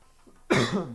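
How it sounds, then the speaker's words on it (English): One sharp, chesty cough bursts out close up after a quiet moment, short and harsh with a rough tail. "Goodness, this cough is terrible."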